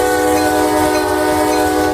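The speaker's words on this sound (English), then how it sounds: "We turn on the lights and bell and the train horn." A commuter locomotive in the RO-Scale Sandbox video game sounds its horn, a loud, sustained multi-tone blare held steadily throughout with no break; no clear bell strokes stand out beneath it.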